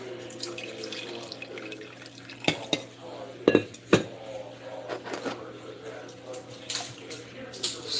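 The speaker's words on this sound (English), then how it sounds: "Stir it around a little bit." A spoon clinks and scrapes against a cup while stirring sugar lumps into black coffee, a few sharp taps bunched together amid soft kitchen background noise, with someone talking quietly alongside.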